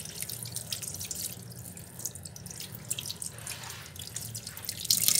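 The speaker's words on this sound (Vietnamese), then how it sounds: "bây giờ mình sẽ rửa lại này. Rửa các bạn nha, rửa sạch cái này được." Running tap water pours steadily over chicken wings being rinsed in a sink, a close, continuous splashing and trickling hiss that grows a little louder near the end.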